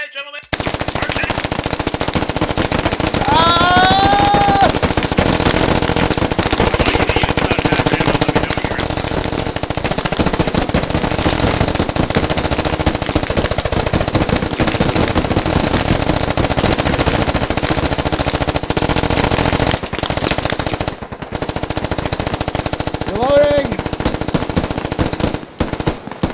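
Heavy machine gun and rifle fire roars through a military squad battle, sustained loud bursts layered almost without pause, with occasional shouted voices cutting in.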